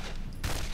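A sudden blast of gunfire bursts out in Condemned: Criminal Origins, loud and close after a brief quieter moment, with no talking.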